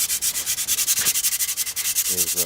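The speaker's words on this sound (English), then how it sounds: "working on sanding up the drums" Brake drums from a 1946 Ford being sanded by hand, a rapid, even rhythm of scratchy rubbing strokes close up, with a brief voice at the end.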